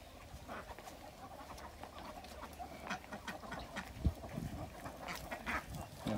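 Ducks kept for eggs in a pen on a garden farm, made from a converted pond fenced with netting, give faint, scattered quacks over a soft outdoor background.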